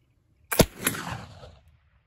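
A single sharp gunshot fired with homemade black powder cracks loudly, followed by a second quick report and a decaying rumble lasting about a second before silence.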